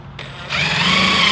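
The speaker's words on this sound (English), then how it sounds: "And then you just drill like right underneath." Power drill boring into the underside of a Mugen-style front lip on a Honda Del Sol, a close, loud whine that starts softly then jumps to a steady full-speed buzz.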